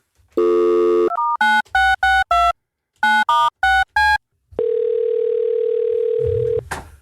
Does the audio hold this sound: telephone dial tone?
yes